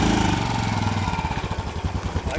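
A motorcycle engine starts and settles into a chugging idle close by, its rapid even pulses steady for about two seconds as the riders get ready to leave from a forest outing.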